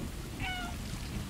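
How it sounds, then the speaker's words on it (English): A single short cat meow from the video game Stray, brief and faint over a steady low background hum. "I got a meow button."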